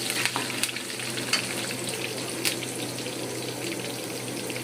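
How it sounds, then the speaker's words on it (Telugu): Chana dal boils in a pot on the stove with a continuous bubbling, watery churn, broken by a few sharper pops and splashes, fairly close and with no talking. "పూర్ణాలకి శనగపప్పు ఉడకబెట్టాము"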